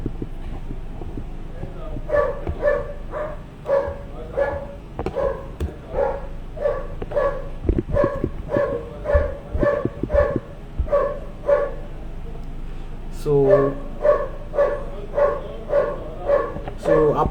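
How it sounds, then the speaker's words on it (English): A security dog barks repeatedly in steady runs of sharp barks at moderate distance, pausing briefly and then resuming, heard behind a person speaking in an online meeting. "someone is disturbing the security dog"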